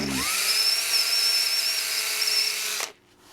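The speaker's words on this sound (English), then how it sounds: "And we drill in." A power drill whines loudly at a steady high pitch for nearly three seconds while boring into thin foam of an RC plane, then cuts off abruptly, leaving quiet room tone.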